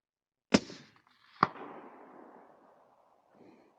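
A suppressed Remington 700 in .223 fires two sharp shots about a second apart, each cracking loudly then trailing into a long fading rumble across an open range, with a faint distant thud near the end.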